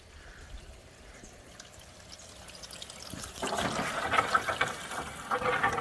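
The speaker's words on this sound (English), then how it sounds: "So I hear the water going into my downspout." Water from a hose pours and splashes into a hollow metal gutter downspout, starting faint and growing louder and steadier partway through, with a trickling, gurgling texture.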